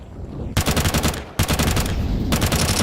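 Sustained automatic gunfire in an esports shooter match, sprayed into a smoke cloud, comes in loud rapid bursts of tightly packed shots with short pauses between them.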